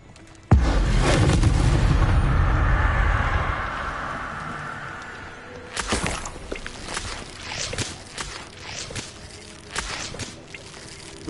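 The Expelliarmus spell cast in Hogwarts Legacy: a sudden, loud booming whoosh that swells and fades, followed by a string of sharper crackling impacts.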